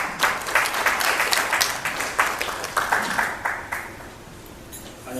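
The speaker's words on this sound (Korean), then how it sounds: "여러분 큰 박수 부탁드립니다." Audience at a Korean-American business friendship forum breakfast meeting clapping steadily for several seconds, a dense even wash of applause that tapers off at the end.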